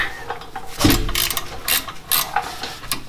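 A spanner turning the nut on a rear brake caliper, giving a series of short metallic clicks and ratcheting taps at close range, irregular and fairly loud.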